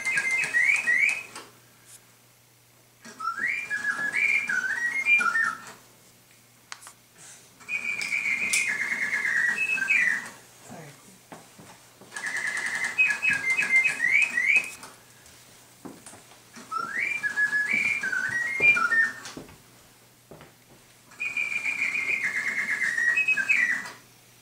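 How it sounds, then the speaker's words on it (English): A French mechanical singing bird automaton with three birds whistles in repeated warbling phrases, each a few seconds long and separated by short pauses, clear and fairly close with no voices. "The French also became interested in birds, and they had mechanical bird things."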